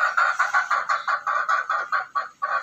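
Hens cluck in a steady run of about a dozen short, close, fairly loud pulses, rising and falling in quick rhythm with no voices over them.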